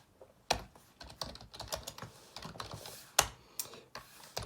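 Someone types on a computer keyboard in a quiet room, a brisk irregular clatter of key presses with a few louder strikes.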